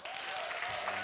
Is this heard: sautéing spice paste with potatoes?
no